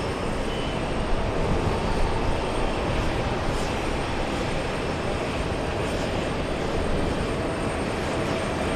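Steady broadband aircraft engine roar as an Embraer E175 airliner arrives from Boston, loud and constant without talk.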